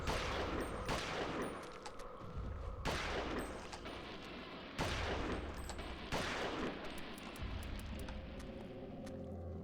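Rapid bursts of gunfire from the Eternal Darkness video game (2002), several loud volleys in quick succession with brief gaps between them, and no talking over them.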